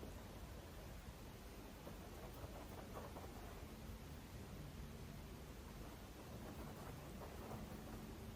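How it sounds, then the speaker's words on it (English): Steady rain patters throughout with a low rumble of thunder beneath, a dense broadband wash of constant loudness and no talking. "Some rain patters."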